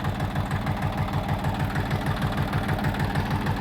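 A KM385VT diesel engine idles steadily after its injectors were cleaned, with an even low rhythmic knock and thrum close by throughout, and no talk.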